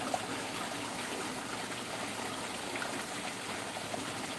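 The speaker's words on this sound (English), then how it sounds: "We got good flow going." Steady water flowing through a creek channel on a farm, a continuous even rush and trickle heard alone with no voices.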